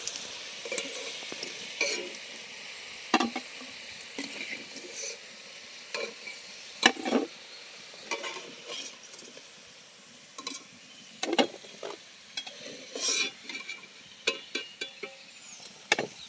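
Potato snacks frying in hot oil in a home kitchen, giving a soft continuous sizzle broken by scattered taps and scrapes of a utensil against the pan, moderately quiet with no talking.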